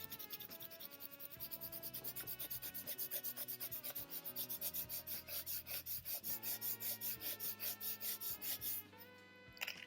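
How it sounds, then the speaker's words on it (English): Paper pressed and rubbed over a leaf to make a print, a rapid rhythmic scratching and rasping of repeated rubbing strokes, close and fairly quiet, steady with no talk. "I'm going to lay this over top of the leaf. And I'm going to press. You can use your fingernail"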